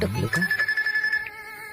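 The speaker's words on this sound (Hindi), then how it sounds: "अरे फिर से टकलू का फोन है" A telephone rings with a short electronic tone that holds steady for about a second, loud and close, after a brief voice at the start.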